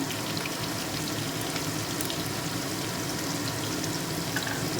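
Potatoes fry in a pan with an even, crackling sizzle that stays steady and fairly close throughout, with no one speaking.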